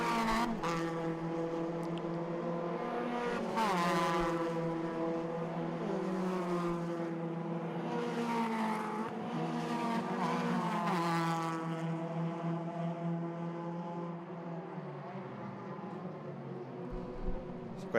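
Race cars in an Irish club circuit race approach and pass at speed, their engines loud and near with rising and falling pitch and overlapping Doppler sweeps, a continuous roar from several cars over the whole stretch.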